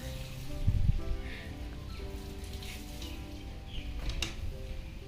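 Rain falling and pattering on surfaces, a soft continuous hiss with scattered drops and a few brief louder knocks, heard fairly close and steady throughout.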